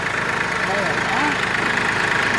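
A tractor engine runs steadily nearby with a low, even idling throb, while faint voices are heard briefly over it.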